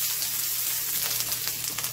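Okra frying in a pan for bhindi masala over medium-high heat, giving a steady, gentle sizzle and crackle that runs close and continuous with no talk.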